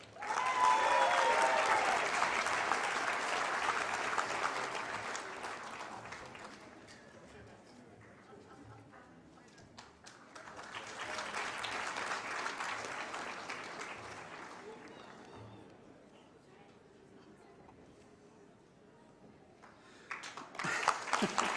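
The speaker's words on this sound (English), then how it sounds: "Three rounds of applause." Audience applause fills a university graduation ceremony hall in broad waves: a loud burst at the start, a softer swell around the middle, fading lulls between, and a fresh burst at the end.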